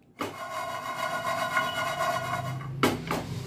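Continuous dry rustling and crunching of crisp roasted spiced cashews being stirred, followed by a couple of sharper crisp rattles near the end.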